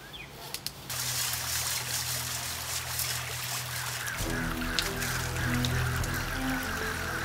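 Creek water trickles and burbles steadily at a moderate distance, a soft continuous wash with a low hum entering partway through, and no voices over it.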